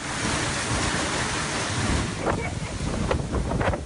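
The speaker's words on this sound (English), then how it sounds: "Narellan hammered by violent wind gusts." Loud, sustained wind from a violent storm front in Narellan, Sydney, roars across the microphone, a dense rushing noise with buffeting gusts and some brief bursts of rattling near the end.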